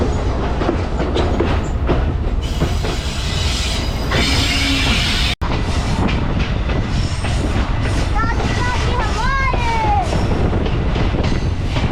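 The Hazara Express runs on its rails with new coaches, a loud continuous rattle of clickety-clack wheel beats and metallic squeals from the rolling carriages, with passengers talking over it and one brief cut in the middle.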